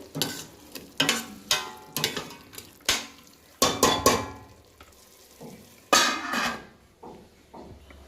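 Spinach being stirred in a pot for palak pulao, repeated metallic scrapes and knocks of a spoon against the pot in an uneven rhythm, close and fairly loud, with faint sizzling beneath.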